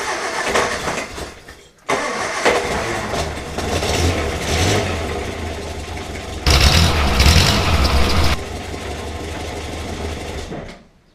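A Morris Minor engine cranks and catches around two seconds in, then settles into a steady, close idle. The engine surges louder for a couple of seconds midway before dropping back to the same even running note.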